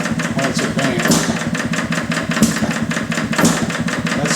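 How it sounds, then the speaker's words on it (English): A small Detroit Engine Works 2HP stationary engine idles steadily nearby with ignition advanced, its exhaust putting out a crisp, even popping rhythm with faint periodic knocks. "The exhaust note's just a little crisper when it's advanced."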